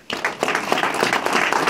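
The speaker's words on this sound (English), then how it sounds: "Give me a round of applause." A small gathering at a grandfather's medal award ceremony starts clapping abruptly after a brief quiet moment, then keeps up lively, close applause with distinct individual claps.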